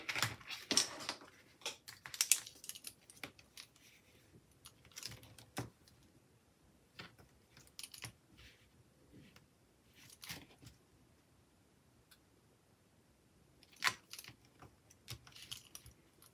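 Pen strokes drawing short lines across a planner page, quiet scratchy bursts in irregular clusters separated by near silence, close and faint.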